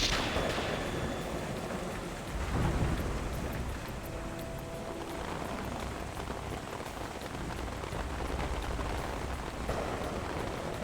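Steady rain pours down in Metal Gear Solid 2: Sons of Liberty, a dense continuous hiss of drops on surfaces with low rumbling swells beneath, filling the scene without voices.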